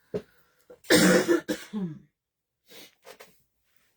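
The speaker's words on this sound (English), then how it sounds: "I gotta do a little cough here." A couple of close, harsh coughs from one person, followed by a brief throat sound and quieter breaths afterward.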